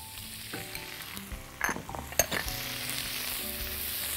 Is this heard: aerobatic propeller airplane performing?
no